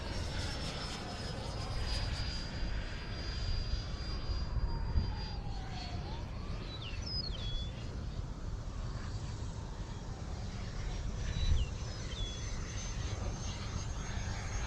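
A Freewing Eurofighter 90mm electric ducted-fan RC jet in flight, a distant steady whooshing hum with gentle swells in loudness as it passes overhead, with no talking.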